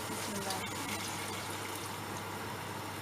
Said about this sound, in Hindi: इसमें 600 मिलीलीटर वाटर डालेंगे